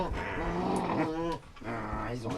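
Hungry sled dogs used for cani-cross and bike-joring growl and rumble continuously at close range, with overlapping deep snarls and whining, and someone talks over them.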